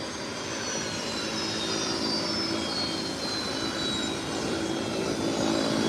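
A Global business jet rolling on the runway toward the threshold for departure, a steady broadband engine roar heard from a distance outdoors, constant throughout without talk.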